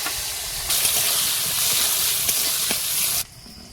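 Chopped onion hitting hot oil in a home kitchen pan, a loud steady sizzle that bursts in abruptly, holds with a few faint clinks of stirring, then drops away sharply near the end.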